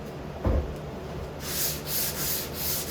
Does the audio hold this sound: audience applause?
no